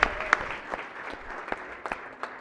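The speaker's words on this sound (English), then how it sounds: "If everybody can give a round of applause, wish a very happy birthday to Senator Carrozza" Senators on a state Senate floor give a round of applause for a colleague's birthday, a fairly quiet, thin patter of scattered clapping with a few sharper individual claps standing out.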